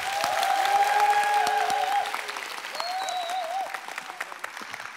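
Audience applause welcoming a pastor at a church talk concert with thirty pastors, a steady burst of clapping that swells early and then thins, with a couple of voices calling out over it.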